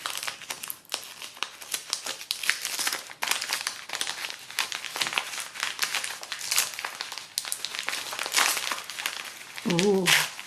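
Sweet wrapping paper crinkling and rustling as a yarn advent calendar package is unwrapped, with continuous close crackles and tears throughout and a brief voice at the very end.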